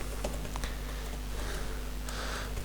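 Quiet, close typing on a computer keyboard, a handful of light scattered key taps over a faint steady electrical hum, with no voices.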